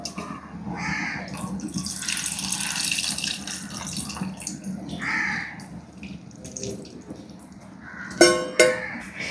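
Squeezed tamarind water poured into a curry pot, a steady splashing pour running for several seconds, followed by a few sharper clinks near the end.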